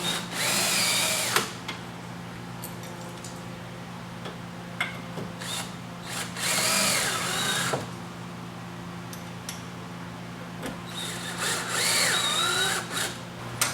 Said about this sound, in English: with screw gun and screws, we're going to run in our remaining